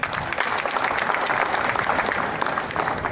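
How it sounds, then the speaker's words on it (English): Large audience in a university auditorium clapping together, a thick continuous round of applause from many hands, loud and sustained for the whole stretch. "Please big round of applause."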